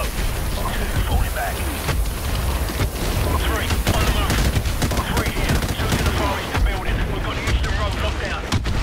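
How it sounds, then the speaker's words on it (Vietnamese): Artillery shelling and rapid gunfire in the Call of Duty 4 Remastered video game, dense booms and crackling shots piling up continuously in a chaotic battle mix, with a player's voice talking over it. "Sao tụi nó pháo kích dữ vậy ta?"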